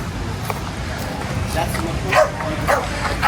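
Dogs bark and yip intermittently at a popular beachfront section of the Puerto Vallarta Malecon in the morning, fairly faint and scattered under wind and ambient outdoor noise.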